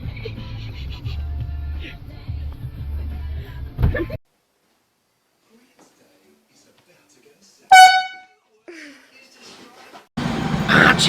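An air horn blasts once in a scare prank, a single loud harmonic burst after a stretch of near silence, with noisy commotion before it and a loud rush of sound afterward.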